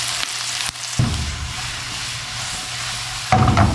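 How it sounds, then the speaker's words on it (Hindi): Chopped onions sizzle steadily in hot oil in a cooking pan, a continuous close frying hiss with a brief louder crackle near the end. "अब हल्का सा इसको जो है मैं फ्राई करूँगी।"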